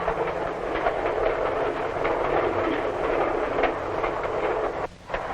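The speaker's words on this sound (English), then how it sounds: "the train speeds toward the sunset" A 1940s passenger train speeding along the rails toward dusk, its steady rumble and rushing wind noise filling the scene, with a brief dip in loudness near the end.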